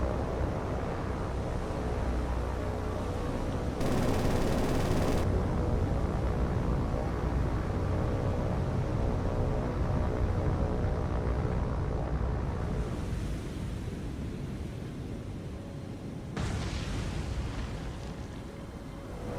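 A bomber is shot down in the naval war game War on the Sea, heard as dense, continuous explosive rumble with roaring engine noise and several louder bursts across the stretch, loud and unbroken, without talk.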